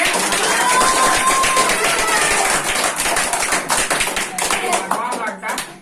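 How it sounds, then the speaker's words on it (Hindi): An audience at a school Teachers' Day dance programme claps in a dense, loud burst that gradually thins out, with voices heard over the clapping. "ताली बजा कर"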